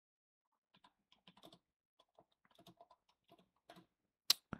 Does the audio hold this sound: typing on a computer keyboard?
yes